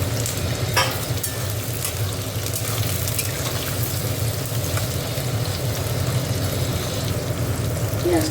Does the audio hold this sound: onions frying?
yes